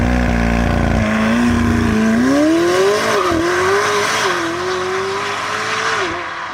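A McLaren 765LT fitted with a Novitec exhaust accelerates hard, its engine note climbing through gears with a loud, raspy roar and brief shifts, staying close and dominant throughout before easing off at the end.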